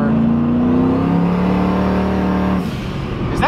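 A race car engine accelerates with a rising harmonic drone that climbs and holds steady, close and loud, before easing off with a brief whine near the end.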